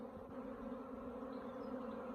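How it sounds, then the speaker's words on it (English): A swarm of bees arrives at spare hive boxes set out for them, a dense, steady buzzing hum that fills the air throughout with no voices. "a swarm of bees."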